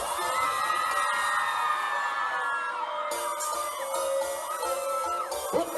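A crowd of women screams and cheers at a live dancehall concert in Belize, a dense high-pitched roar of whoops and shrieks that fills the scene continuously, rising briefly near the end.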